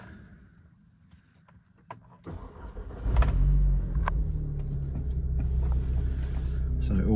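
An Audi TTS Coupe engine cranks and fires up after a few quiet clicks, then settles into a steady low idle rumble that stays close and fairly loud.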